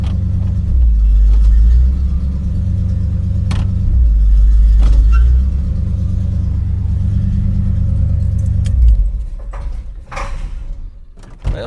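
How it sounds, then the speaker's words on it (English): A 1958 Cadillac engine runs on and dieseling after shutoff, a loud low rumbling idle that surges and sags in uneven waves before stuttering out, followed by a few clunks and rattles nearby. "Well, she's wanting to diesel a little bit."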